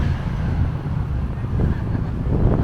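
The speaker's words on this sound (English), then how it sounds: "Whoa, the wind." Strong wind buffets the microphone while riding a bicycle on the Colquitz and Royal Oak trails in Victoria, BC, a steady low rumbling roar that lasts the whole time with no talking.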